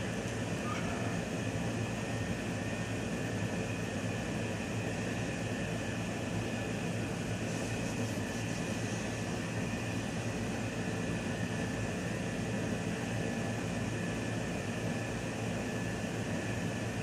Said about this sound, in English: Sound behind me is always air conditioner.